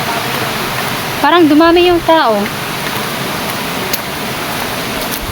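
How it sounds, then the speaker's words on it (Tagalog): A small river stream beside a riverside cooking spot, flowing with a steady broadband rush of water throughout while a voice speaks briefly over it. "Yun may ilog doon, sapa."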